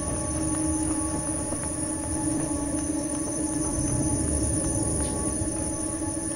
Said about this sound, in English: Not much. Just trains.